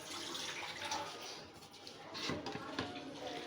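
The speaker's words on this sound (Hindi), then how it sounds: "चावलों के अंदर से पानी अलग कर लेंगे।" Water pours and trickles steadily as it drains from soaked rice into a sink, faint and close with soft splashing throughout.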